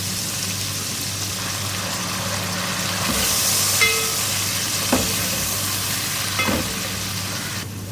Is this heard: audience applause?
no